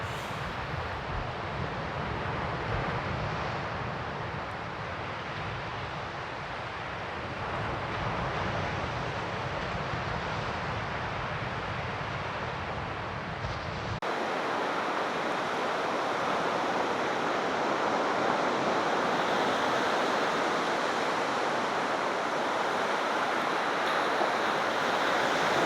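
Strong wind and breaking surf on a blustery beach, a steady loud roar of waves and gusts filling the whole stretch with no voices, the tone shifting brighter partway through.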